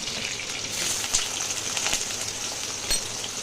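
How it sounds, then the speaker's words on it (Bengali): Potato and eggplant frying in hot mustard oil with panch phoron in a wok, a steady dense sizzle close by with a few sharper crackles and pops throughout, no talking. "তো এই দেখো, দাঁড়াও, আলু বেগুনটা ভেজে নেব।"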